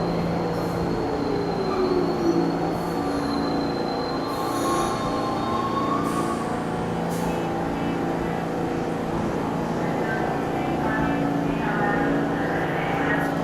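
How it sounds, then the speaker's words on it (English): A New York subway train rumbles steadily through Atlantic Avenue–Barclays Center station, a loud continuous roar with faint wheel squeal and tonal whines over the whole span. "Is that a V train?"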